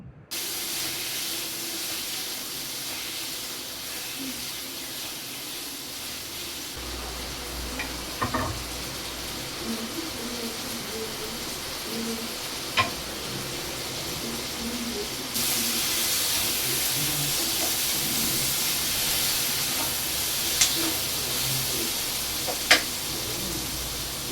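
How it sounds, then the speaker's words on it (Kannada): Tomato chutney mixture frying in a little oil in a home kitchen pan, a steady hissing sizzle that continues throughout with a few soft clicks and a slight rise in intensity partway through, with no talking. "ಸ್ವಲ್ಪ ಎಣ್ಣೆನ ಹಾಕ್ಬಿಟ್ಟು ಚೆನ್ನಾಗಿ ಇದನ್ನು ಈಗ ಹುರ್ಕೋಬೇಕು"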